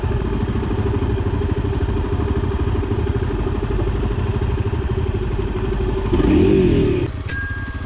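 A Honda CRF250L engine idles with a steady, close, chugging drone before revving briefly as the rider tries to pull away up a steep, dusty hill; a short bell-like ding follows.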